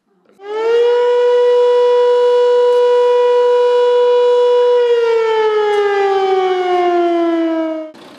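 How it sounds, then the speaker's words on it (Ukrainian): An air raid siren sounds from a town hall tower, a loud, sustained wailing tone that rises, holds, then slowly falls before cutting off. "Майже 2 роки з вежі Теребовлянської ратуші було чути лише звук повітряної тривоги."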